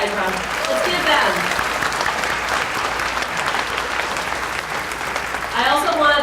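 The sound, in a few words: audience applause at naturalization ceremony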